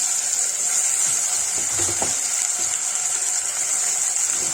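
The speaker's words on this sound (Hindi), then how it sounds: "सब एक साथ भून लेंगे।" Steady, hissing sizzle of potatoes, beans and onions frying together in a pan, with a few soft clinks partway through; no voices.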